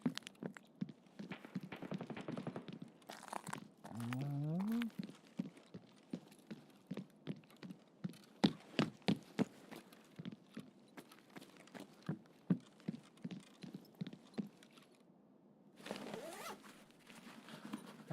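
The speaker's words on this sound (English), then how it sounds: "I heard footsteps on metal real close." Rhythmic footsteps on metal in the video game Escape From Tarkov tap steadily and close by, with a brief rising tone partway through and a burst of noise near the end.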